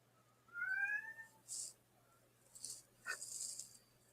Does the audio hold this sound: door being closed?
no